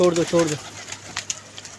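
A pigeon at a pigeon club gives a short, close coo of a couple of low pulses, then quiet background with faint clicks.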